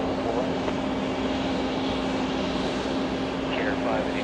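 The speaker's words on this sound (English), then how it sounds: "We go to JetBlue with 1726 flying in from Tampa, Florida" A JetBlue airliner in Boston Red Sox livery, in from Tampa, landing on runway 4 left at JFK airport, a steady broad engine roar with a low hum throughout, with talking over it.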